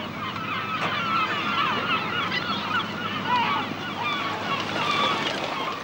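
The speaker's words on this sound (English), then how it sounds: "Herring gulls mostly." Herring gulls, white adults and brown speckled youngsters, gathered at a refuse site in Ulster in 1976 waiting for lorries, call in a dense, continuous chorus of overlapping squawks and honking cries, fairly loud throughout.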